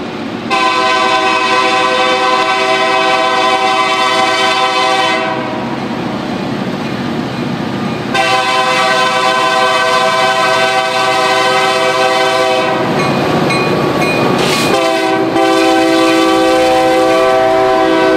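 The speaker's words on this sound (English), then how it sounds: "An EMD SD40-2 as well as two GP38-2s are in charge of today's train" Chicago, Fort Wayne & Eastern freight train led by an EMD SD40-2 and two GP38-2 diesel locomotives blasts its horn in long loud sustained chords, with a brief pause and a final short blast, over engine rumble and rolling wheels.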